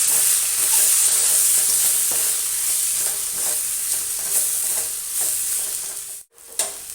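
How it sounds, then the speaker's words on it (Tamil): Vegetables with spices sizzle and crackle steadily in a hot pan, with scraping stirring strokes throughout and a brief dip near the end. "நல்லா வதக்கிக்கலாம்."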